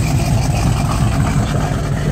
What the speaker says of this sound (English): The Trans Am coming around the corner here